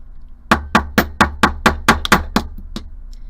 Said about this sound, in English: I'm going to hammer this flat.